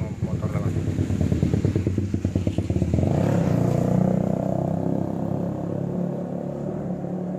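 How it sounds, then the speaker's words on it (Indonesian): A motorcycle passes close by with a sputtering, pulsing engine that swells to a loud rumble and then fades slowly as it rides away. "Ntar berisik motor lewat."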